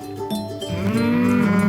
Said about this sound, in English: And these are my 3 weaned calves.